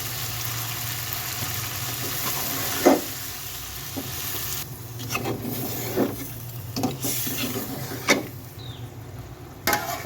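Boiled potatoes go into a sizzling pigeon curry, with steady frying hiss and a spatula scraping and knocking against the pan in irregular strokes up close.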